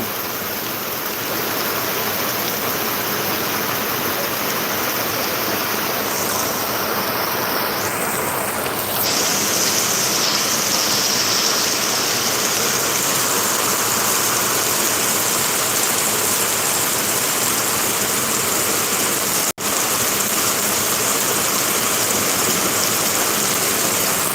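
Heavy rain pours down steadily over the Guntur chilli market yard, a loud, dense broadband hiss with no voices, holding constant throughout with a brief dip near the end.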